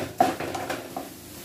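A spoon clinks and scrapes against a bowl while soybean paratha filling is mixed with salt, a sharp knock followed by a few softer taps and scrapes, close and fairly quiet.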